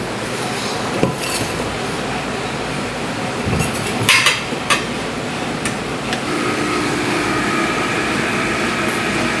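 A Rocket Espresso Milano coffee machine runs with a steady, loud mechanical hum and hiss, broken by a few brief metallic clinks and knocks, with no talk.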